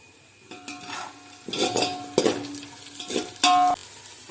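Onions sautéing in a pan for vegetable biryani, heard mostly as repeated spatula scrapes and metallic clinks against the pan over a faint sizzle, close by, in irregular bursts.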